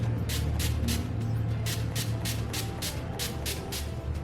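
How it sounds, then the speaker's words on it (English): Repeated short spritzes of NYX Dewy Setting Spray misted onto a face during bridal makeup, about ten quick hissing bursts in a steady rhythm over a continuous low hum. "I'm going to use the NYX Dewy Setting Spray and spritz on this side."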